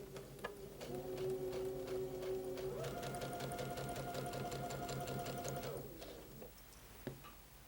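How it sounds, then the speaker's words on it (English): An electric sewing machine runs a steady, fast stitching whir for several seconds as it sews a seam on a Dutch Rose Carpenter's Wheel quilt, then slows and stops, with a couple of light clicks afterward. "So we'll sew that seam first."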